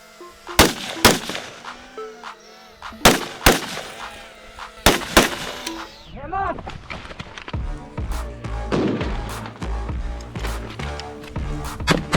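Sharp blasts and gunfire crack repeatedly during Ukrainian basic infantry training, with a louder grenade explosion near the middle followed by sustained rumbling and scattered distant shots.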